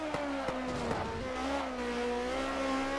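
A race car engine in the Classic Racers Elite driving game holds a steady high-pitched drone near full speed. Its harmonic lines rise slowly, and a few sharp clicks or bumps sound over it early on.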